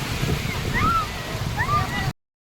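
Sea water washes in steadily at Juhu beach as a broad, continuous surf hiss, with voices and a few high chirping whistles rising over the wash.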